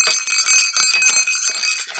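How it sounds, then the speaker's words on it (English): A small Christmas ornament bell jingles rapidly and continuously, bright metallic tinkling shaken close by, steady and fairly loud for the whole moment. "It's the Polar Express bell."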